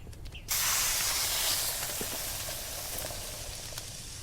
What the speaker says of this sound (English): I wait for the bottom side of the ribeye to cook